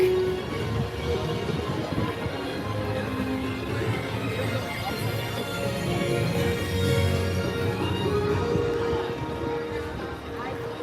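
A roller coaster train at Universal's Epic Universe rumbles along its track, a steady low clattering roar with background crowd noise and people talking over it.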